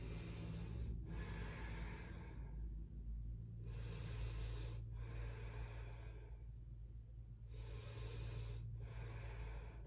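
Slow, deep breaths held in yoga's warrior two pose, each long airy inhale and exhale drawn out and close, separated by brief quiet gaps, with a steady low hum beneath.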